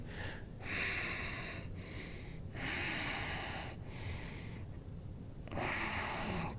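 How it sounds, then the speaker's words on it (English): Slow, deep breaths during a yoga stretch in a runners' class, several long inhale and exhale cycles with an airy, snorting quality, close and steady with no talking. "Breathe."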